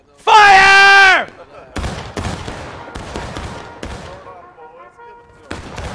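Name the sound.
musket volley fired in the video game War of Rights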